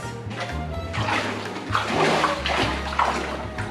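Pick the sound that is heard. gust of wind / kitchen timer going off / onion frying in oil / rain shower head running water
rain shower head running water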